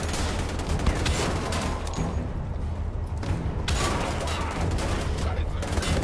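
Gunfire from the video game Wolfenstein: The Old Blood comes in dense, fast volleys with short pauses between bursts, loud and close, with a voice talking over the shooting.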